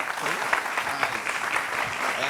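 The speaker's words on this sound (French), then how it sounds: "Voilà, on applaudit." An audience claps for a visiting youth football club on a live show, a short burst of steady applause with voices mixed in throughout.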